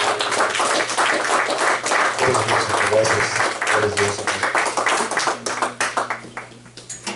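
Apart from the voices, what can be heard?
congregation clapping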